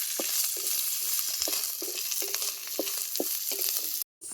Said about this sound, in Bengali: এবারে ঘিয়ের মধ্যে দিয়ে দেব কিছুটা পরিমাণে নারকেলকে পাতলা পাতলা করে কেটে নিয়েছি এর মধ্যে দিয়ে দেব দিয়ে হালকা করে তাকে ভেজে নিই